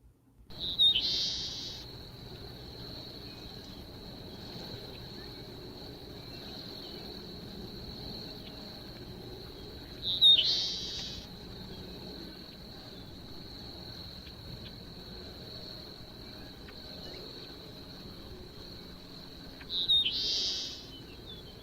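Repeated call of the extinct dusky seaside sparrow of Merritt Island, Florida: three short buzzy bursts roughly ten seconds apart, each sharp and brief, over a thin, steady high insect-like drone.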